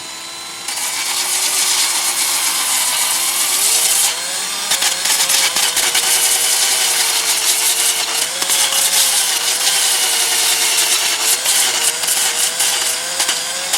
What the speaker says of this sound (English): That's pretty rough there too, so we'll sand that up.